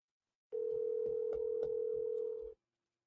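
A steady telephone dial tone sounds for about two seconds while dial-pad keys are pressed several times on top of it, then cuts off abruptly, with no talk.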